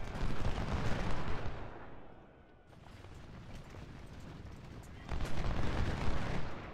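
Musket volleys crackle from Union and Confederate lines in Ultimate General: Civil War, with dense overlapping gunfire rolling loudly, easing briefly, then surging again near the end.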